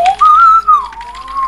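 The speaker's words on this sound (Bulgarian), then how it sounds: "спри да свиркаш" A person whistles a short, clear tune, a single sustained wavering note that rises, holds and dips, close and loud over near-silence.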